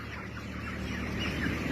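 Broiler chickens, about 25 days old, cluck and murmur together inside a poultry house holding around 6000 birds. The flock keeps up a steady, fairly faint chatter with no voices over it.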